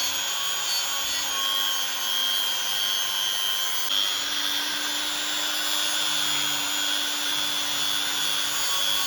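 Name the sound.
rotary tool sanding a knife blade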